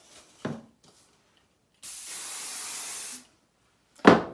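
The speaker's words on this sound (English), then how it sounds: "So for hairspray, I'm just using the Pantene 4 Extra Strong Hold." Short bursts of Pantene Extra Strong Hold hairspray from an aerosol can: a brief puff, then a steady hiss of about a second and a half, then another quick burst at close range.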